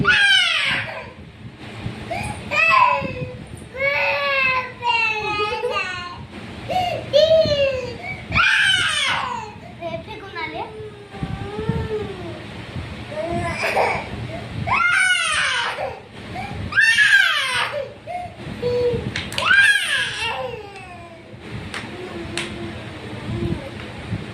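A young girl cries and wails loudly while being given cold medicine, sobbing in repeated rising bursts as adults talk and coax her between the cries.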